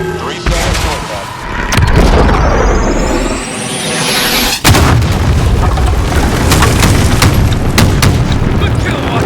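A loud explosion brings down a bridge in the Modern Warfare shooter, a sharp sudden blast after a rising whine, followed by sustained rumbling debris and scattered gunfire, with voices heard in the mix.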